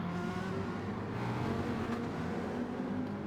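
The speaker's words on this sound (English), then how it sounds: "Just listen to the V10 truck engine in that thing." A Dodge Viper V10 racing car in a sim-racing endurance championship drones past at a steady, moderately distant level, its engine a continuous low rumble mixed with other race traffic.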